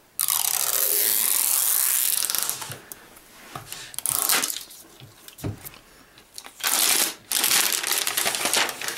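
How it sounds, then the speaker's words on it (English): Plastic wrapper around an Apple Mac Pro (2014) being unzipped and pulled open, with bursts of crinkling and rustling plastic, close and fairly loud, broken by short pauses. "So we have a little zipper here to pull down to release it."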